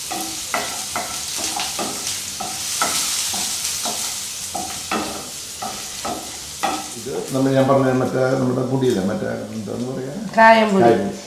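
Dried red chillies and green chillies sautéing in a pan over low heat, a steady sizzle with stirring scrapes running beneath a person talking throughout.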